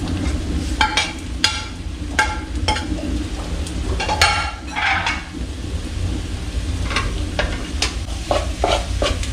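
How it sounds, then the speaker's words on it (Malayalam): Tomatoes being stirred into a chicken masala for a Kerala-style country chicken curry, a spoon scraping a frying pan in repeated strokes over a steady sizzle, close and fairly loud. "നമുക്ക് നന്നായിട്ട് ഇളക്കി കൊടുക്കാം"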